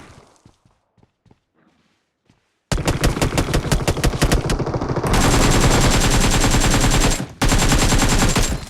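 Rapid automatic gunfire in PUBG Mobile, a few faint shots at first, then loud sustained bursts of fast repeating shots with a brief pause, close and dominant.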